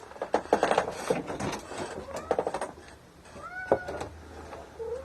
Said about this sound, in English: my cat is crying at my door